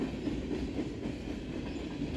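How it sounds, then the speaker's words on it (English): Freight train hauled by a CP AC4400 locomotive accelerating after a slow order, a steady dense rumble of railcars and rolling wheels holding at constant loudness throughout. "it looks like it's reached the end of the slow order as it's picking up speed"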